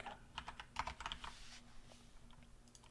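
Fast bursts of key clicks from a computer keyboard as code is typed, a quick uneven clatter over the first half that thins to a few scattered taps, close and fairly quiet with no voice.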